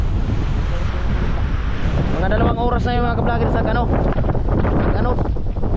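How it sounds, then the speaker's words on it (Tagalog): Strong wind and rough waves at sea, the gusts buffeting the microphone in a loud, continuous roar with surf beneath, while a person talks over it. "Malakas ang hangin."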